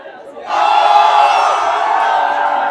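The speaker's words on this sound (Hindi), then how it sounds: "जंतर मंतर से निकलते ही देख लो बाहर कितनी भीड़ है" A large crowd roars and chants outside Jantar Mantar, a loud, sustained wall of massed voices that surges in abruptly after a quieter moment and holds steady close by.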